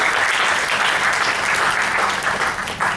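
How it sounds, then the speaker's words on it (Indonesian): An audience at a leadership workshop bursts into loud, continuous clapping, a thick, close roar of many hands that stays even for about three seconds with a brief dip near the end. "Ya, tepuk tangan dulu."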